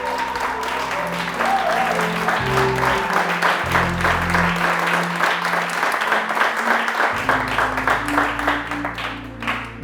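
A church congregation applauding and acclaiming during a service, a steady wash of clapping and crowd voices held throughout, with music tones sustained beneath.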